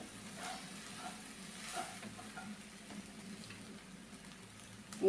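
Washed puffed rice stirred in a pan for a Maharashtrian murmura dish, giving a faint, steady soft rustle and sizzle with no speech.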